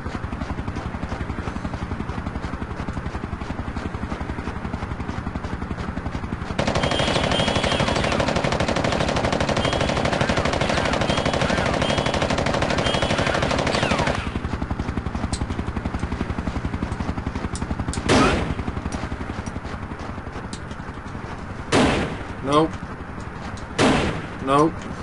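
Gunfire in the Fighting Force video game: dense bursts of rapid shots in the middle stretch, followed by a few sharp isolated bangs near the end, with a player talking at times.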